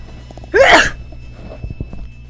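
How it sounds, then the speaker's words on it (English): A single loud, sharp sneeze bursts out near the mic, followed by faint, quiet background rustling. "Oh no, I feel a sneeze coming on."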